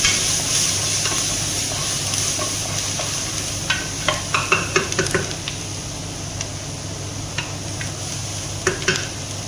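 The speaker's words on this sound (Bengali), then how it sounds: "নাড়া দিতেছি কষতে থাকুক" Lamb kabsa fries in a pot while a spoon stirs it, giving a steady sizzle under bursts of close metallic scraping that grow busier midway.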